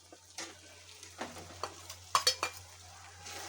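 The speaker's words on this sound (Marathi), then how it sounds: "तेही चांगलं परतून घ्यायचे चांगलं परतून तेल सुटेपर्यंत चांगलं परतून घ्यायचं" Green spice paste sautéing with soft-cooked tomatoes in oil for a green bean dish, a quiet sizzle broken by spaced spoon scrapes and a cluster of sharper clinks against the pan, no one talking.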